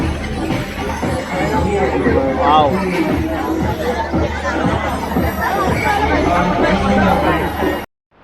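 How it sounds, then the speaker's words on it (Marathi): A large crowd fills a Konkani festival in Mumbai with dense, continuous babble of many voices and chatter, near and loud, before cutting off abruptly at the end. "गर्दी पण भरपूर आहे बघा"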